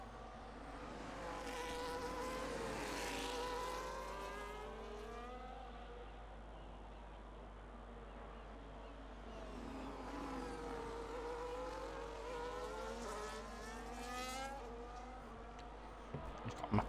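F1 race car engines in a Baku race of a racing video game whine past in sweeping rising and falling passes, a faint buzzy drone swelling and fading twice across the stretch.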